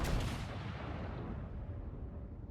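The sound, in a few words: ship guns firing in video game World of Warships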